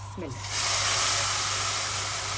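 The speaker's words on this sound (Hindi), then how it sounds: "ये दूध और अंडे का मिक्सर हम इसमें डाल देते हैं।" After a brief voice, a loud steady hiss erupts as a milk and egg mixture hits a hot pan for egg halwa, sizzling continuously over a low hum.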